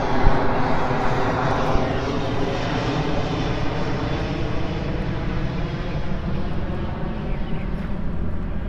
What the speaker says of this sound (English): Hold on, let this airplane pass.